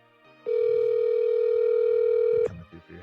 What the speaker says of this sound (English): We're ringing in the Fudge